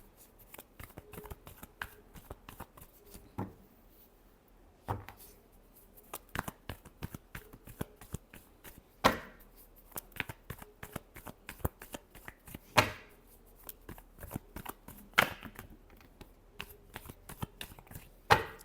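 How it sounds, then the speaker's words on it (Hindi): Tarot cards being shuffled during a reading, a steady run of soft riffling and sharp card snaps, close and fairly quiet, with no talking. "Last shuffle."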